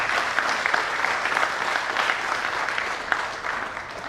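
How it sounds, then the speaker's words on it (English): Applause from the audience at a CEO conclave of an alumni association, a steady dense wash of many hands clapping, fairly loud and sustained with no talk over it. "So clap for all of us, actually"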